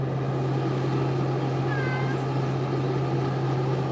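A cat being groomed for a lion cut gives one brief, faint meow over a constant low droning hum that runs throughout.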